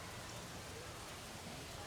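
Rain falling steadily at a lake campsite in a state park, a faint, even hiss of drops with no distinct voices.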